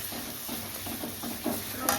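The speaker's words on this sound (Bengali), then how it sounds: "এবার রসুনটা ভাজা হবে।" Garlic paste sizzles and crackles steadily in a hot pan while being stirred, with soft scraping strokes repeating under the continuous fry and no voices.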